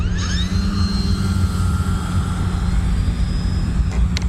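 A Turbo Timber Evolution RC floatplane makes a slow, low-power flyby, its propeller motor a loud, steady drone with a thin whine that bends slightly in pitch early on. A couple of faint clicks come near the end, and no one speaks.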